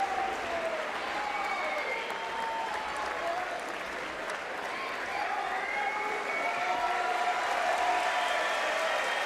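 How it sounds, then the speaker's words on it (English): A judo crowd at the Tel Aviv Grand Slam applauds steadily and loudly throughout, a dense sustained wash of clapping from a large arena audience. "Really appreciative, this crowd."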